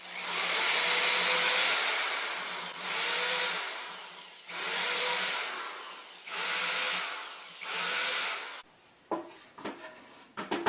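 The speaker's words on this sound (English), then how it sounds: "I'm going to put screws in here and here" A power screwdriver drives screws into a homemade wooden desk. It makes four long, loud whirring runs with brief pauses between them, then a few short clicks and knocks. No one speaks.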